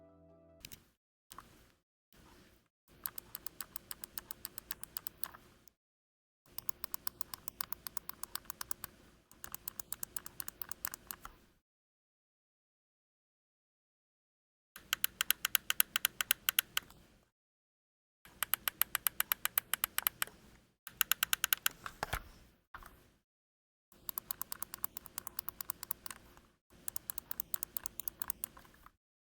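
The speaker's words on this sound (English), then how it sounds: "So that is the sound of the paddles on the back of the controller." Back paddles on an AimController Hall Effect PS5 controller clicking in rapid bursts of crisp, loud taps, grouped into several runs separated by short silences and one longer pause, close-up with no voices.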